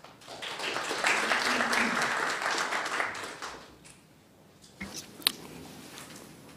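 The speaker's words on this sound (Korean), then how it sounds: "축하의 박수를 보내면서" Applause from attendees at a meeting of university presidents, a moderate burst of clapping that builds for a few seconds then fades out, followed by quiet and a couple of isolated knocks.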